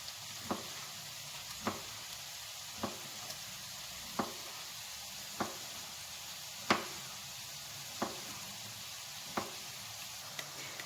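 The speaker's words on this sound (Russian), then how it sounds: "Помидоры я буду нарезать кубиками" Sharp knife strikes on a board while dicing tomatoes for plov, about nine evenly spaced chops against a steady sizzling hiss from the pan.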